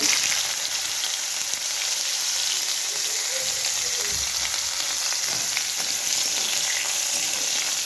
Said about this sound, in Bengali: উচ্ছেগুলো আগে ভেজে নেব।